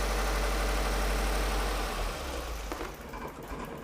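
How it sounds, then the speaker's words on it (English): A 2015-or-later Subaru WRX engine idles loud and close with a deep steady rumble, then falters and fades to a rougher, quieter hum as it runs out of fuel. "we'll start up the car, let it run until the engine dies"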